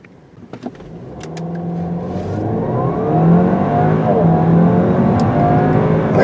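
A 2018 Audi A4 accelerates hard from inside the cabin, engine pitch climbing steadily as the turbo builds and the sound grows louder, with a few clicks at the start.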